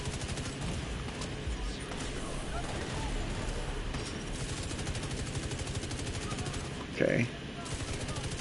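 Rapid automatic gunfire from a shooter video game rattles steadily throughout, with a louder burst near the end, while a player talks briefly over it.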